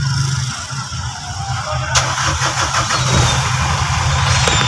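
A Mitsubishi Canter double cab truck's diesel engine runs steadily at idle, loud and close, with a sharp metallic click partway through and the engine note continuing unchanged afterward.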